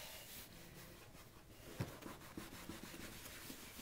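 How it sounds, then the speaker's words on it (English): Goo Gone rubbed by hand over a game case to lift tape residue, a quiet scratchy rubbing with a few soft taps and knocks, close and faint. "spread a little on there and then just rub a little bit"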